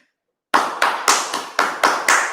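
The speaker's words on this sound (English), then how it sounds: "One big applause to Pranay." Seven sharp hand claps ring out in a quick, evenly spaced sequence after a brief silence, close and loud, like a short burst of applause for a quiz winner.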